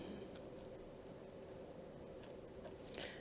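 A pen or pencil writing out a matrix by hand, a faint steady scratching of strokes over a low background hum, with one small tap near the end.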